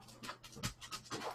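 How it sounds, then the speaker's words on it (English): Puppies pant and whimper close by, with quiet, rhythmic breathy bursts and soft whines over a faint low hum. "I hear some puppy noises."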